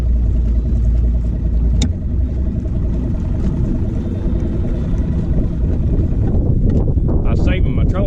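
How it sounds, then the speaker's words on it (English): A fishing boat's main outboard motor runs steadily under wind buffeting on open water, loud and close; a voice talks over it. "I was saving my trolling motor battery there by starting the main motor"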